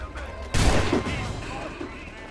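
Gunfire in the video game Assassin's Creed III, a sudden loud burst of shots that rings out and fades over a noisy background, with a voice talking underneath.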